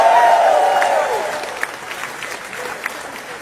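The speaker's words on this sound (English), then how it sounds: "Give yourselves a round of applause." A crowd at a speaking event breaks into applause right after chanting, loud at first and then fading into scattered clapping with a few isolated claps near the end.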